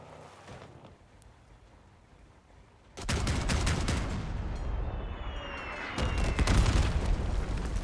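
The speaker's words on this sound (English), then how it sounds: "They made new explosion sounds for the Mandrakes when they hit." Video game explosion effects from Mandrake projectiles hitting, heard as a sudden loud burst of crackling booms that continue as a dense rumbling barrage, with a second surge of impacts partway through.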